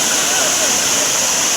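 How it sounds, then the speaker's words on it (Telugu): Munjuluru waterfall near Kannapuram roars close by as a dense, unbroken rush of falling water that fills the whole moment at a strong, constant level. "ఇది ముంజులూరు జలపాతం"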